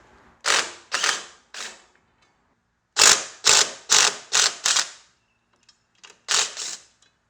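A ratchet turns a 13mm socket on the strut bar of a Volvo. Crisp clicking comes in close, loud bursts: three quick runs, a pause, five more, then a couple of softer ticks and one last run.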